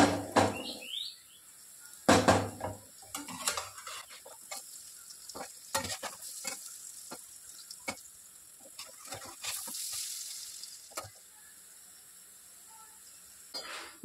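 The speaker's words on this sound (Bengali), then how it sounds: "এইভাবে বড়াগুলো সব ভেজে নিতে হবে।" Fritters of pumpkin-leaf batter fry in hot oil in a pan, giving a steady close sizzle broken by sharp clatters and scrapes of turning, with faint bird chirps in the background and no talk.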